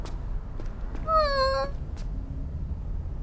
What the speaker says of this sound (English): we got a kitty!